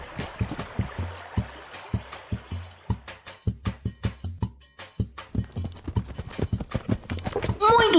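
Horse hooves clip-clop in a steady, close rhythm on a rural track, a run of sharp evenly spaced hoofbeats that continues throughout, with a brief whinny-like sound near the end.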